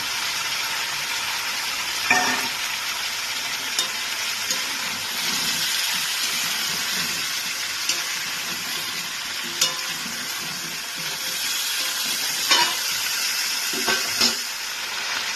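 Green chilies added to pumpkin frying in a pan for a Bengali pumpkin dish with hilsa fish head, with a steady hiss of sizzling oil and occasional spatula knocks and scrapes up close.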